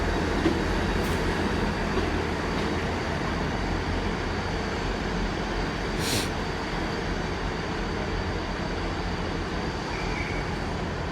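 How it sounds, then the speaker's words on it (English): A Great Western Railway train to Plymouth at Exeter St David's station, a steady, loud low rumble of rolling wagons with brief high squeals from the wheels and no voices. "Great Western Railway service to Plymouth now leaving."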